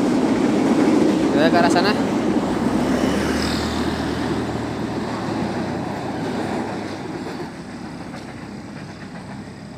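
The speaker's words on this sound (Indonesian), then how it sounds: "kereta api lokal Bandung Raya membelah kabut ya" A local Bandung Raya train runs through morning fog with a steady, broad rumble and rushing noise, with a horn-like tone early on, while someone speaks briefly.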